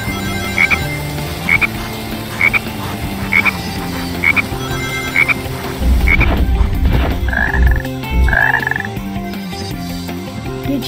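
Frog croaking in the Sonic Heroes video game with the Sir Lancelot mod: a few short, loud croaks near the end, rising out of steady game music and periodic chiming effects.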